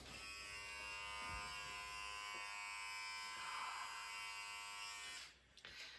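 Electric shaver or clippers buzzing steadily while shaving hair, a continuous close whine that runs for several seconds before cutting off near the end, with small handling noises.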